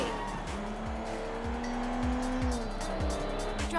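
Car driving in Sleeping Dogs with tires squealing through a long skid over steady engine roar, accompanied by repeated thuds and rising-falling whines, with no speech.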